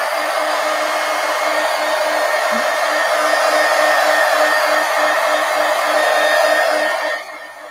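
A hair dryer blows steadily and loudly, drying paint on an art journal page, its even whooshing roar holding for about seven seconds before cutting off near the end.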